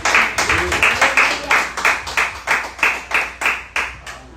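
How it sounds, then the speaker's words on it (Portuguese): Church congregation claps in unison in a steady rhythmic beat, about nine or ten sharp even claps filling the room, with faint voices beneath. "Você pode aplaudir ao Senhor com o seu melhor?"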